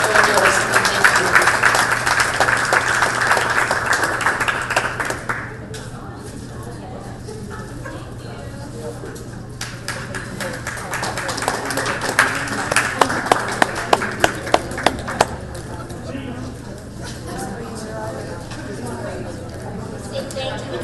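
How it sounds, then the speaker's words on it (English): Luncheon audience claps loudly at the start, then a speaker talks over the room, and a second swell of scattered, sharper clapping rises before fading under continued talk. "they deserve a huge round of applause for all they do"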